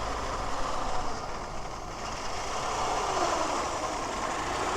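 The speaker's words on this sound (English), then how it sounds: "Let's listen to the engine on this one" A Ford Model T engine idles with a steady, continuous rumble, heard close by amid broad outdoor noise at a classic car and historic vehicle run.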